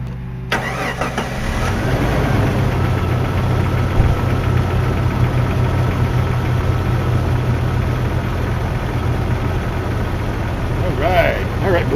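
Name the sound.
Jeep ZJ 4.0L engine idling with light tapping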